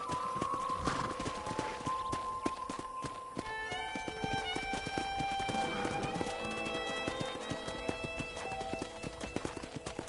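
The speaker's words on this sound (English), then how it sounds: "let's see if you can still ride a horse." Hooves clip-clop steadily as a horse moves along in Red Dead Redemption, with a horse whinny and music playing alongside throughout.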